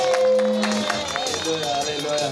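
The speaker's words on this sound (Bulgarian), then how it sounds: "А да ръкопляскаме" A crowd applauds at a celebration in Kazanlak, with a short stretch of dense clapping mixed with babble and voices. A sustained musical tone runs underneath.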